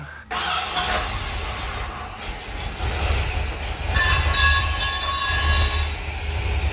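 A C3 Corvette engine with a missing exhaust tip bursts into life almost at once and settles into a loud, steady, rumbling roar that holds to the end.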